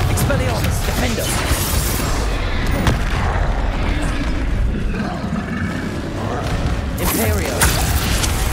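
Explosive spell blasts from Bombarda and Confringo in the Hogwarts Legacy video game: dense, continuous booms and crashes of combat, loud throughout with heavier bursts near the start and end.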